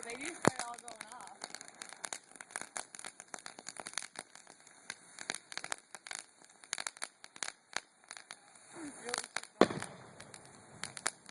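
Fireworks crackle and pop in dense rapid bursts at a distance, a continuous spray of sharp snaps with a few louder bangs, and people talk faintly in between.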